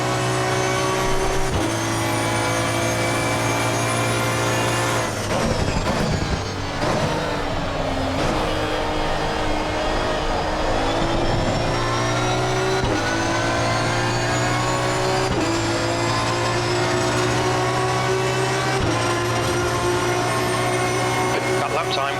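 An Aston Martin V12 Vantage GT3 race car in the game Assetto Corsa Competizione gives a sustained, loud V12 engine drone. The pitch climbs steadily and falls back sharply at each gear change throughout the lap.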